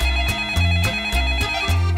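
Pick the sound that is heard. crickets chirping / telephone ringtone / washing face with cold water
telephone ringtone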